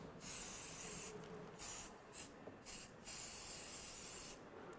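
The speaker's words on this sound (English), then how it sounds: "we're going to spray this mold" Silicone release agent sprayed in several bursts onto a resin casting mold, a steady close hiss with brief pauses between passes.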